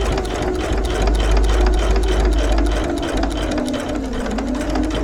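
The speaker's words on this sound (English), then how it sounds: "I'm just going to sew right very close to where I" A sewing machine runs steadily and loudly, close up, reinforcing a seam on a reversible bag, with a continuous motor drone and rapid needle chatter throughout and no pauses.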